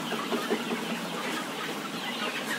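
Poultry house holding around 1,400 chickens, with a continuous chorus of clucking and chattering birds at moderate volume and no voices.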